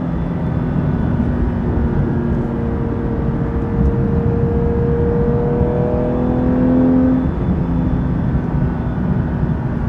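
A 992-generation Porsche GT3 Touring in Brewster Green drives along with a steady, loud engine drone and tire roar, its pitch rising and falling as it shifts through the gears, with no talking over it.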